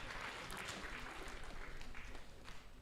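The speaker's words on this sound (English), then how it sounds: "Can we give them a very big hand clap?" Crowd applause at a labour market survey report event, a dense, even wash of many hands clapping together, steady and fairly distant, with no voices over it.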